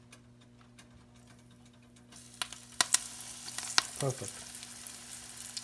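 Hot oil crackles and sizzles as eggplant pieces drop into a pan, with a few sharp pops and clinks, starting quiet and growing busier midway.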